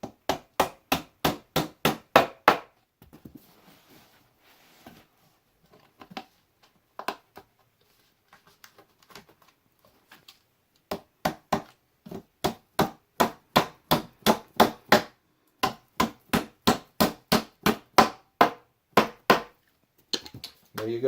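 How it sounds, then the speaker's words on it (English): Hammer blows knocking together the wooden pieces of an IKEA Alex drawer: bursts of quick, evenly spaced sharp knocks, close and loud, with pauses between runs and faint handling noise. "take your hammer, hold this here. We're going to hammer it in."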